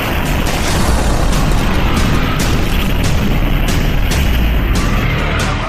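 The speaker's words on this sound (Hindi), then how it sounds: "ड्रोन से हुए इस धमाके ने इजराइल को बुरी तरह से हिलाकर रख दिया।" Loud, sustained roar of a drone-strike explosion in Tel Aviv, a dense rumbling blast with heavy low-end boom and crackling debris noise filling the whole stretch, no voices.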